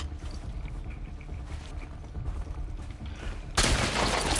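Gunfire in The Last of Us Part II, a steady dense rumble of game combat noise that breaks into a sudden loud burst of shots near the end.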